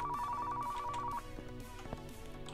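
An in-game telephone rings in Car Mechanic Simulator 2015, a steady electronic ringtone repeating for about a second over a busy musical background, then cutting off while the game music continues.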